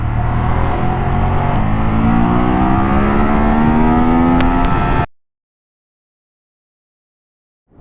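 A Ducati Monster 821 motorcycle accelerating in sport mode through second gear, its engine rising steadily in pitch, loud and close, then cutting off abruptly into silence for the last few seconds.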